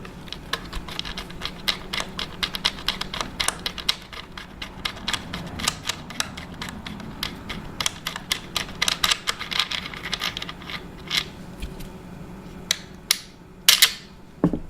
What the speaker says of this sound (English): we will undo the action screws